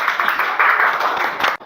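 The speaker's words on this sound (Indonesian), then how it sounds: "kita kasih tepuk tangan untuk kelompok 3." A classroom group claps for the third presentation group, a dense burst of many hands patting together, steady and fairly close, for under two seconds before cutting off.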